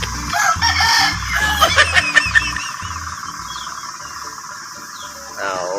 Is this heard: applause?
no